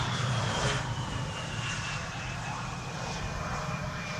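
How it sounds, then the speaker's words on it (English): A Lufthansa CityLine CRJ900 regional jet arrives at Amsterdam Schiphol's Polderbaan runway, its engine noise a soft, steady distant whine and rush under gusty wind, with faint voices now and then. "CRJ 900 arriving from Frankfurt, the first of the show. Lufthansa City Line."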